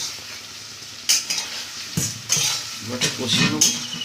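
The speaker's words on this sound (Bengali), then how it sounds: "এবার এই কচুগুলো দিয়ে দেবো এই যে সেদ্ধ করে কচুগুলো আমরা দিয়ে দিচ্ছি মশলাটার মধ্যে" Boiled taro stirred into a sizzling spice paste in a pan, with frying crackle under repeated spatula scrapes and metallic clinks against the pot, close and uneven, with no talking.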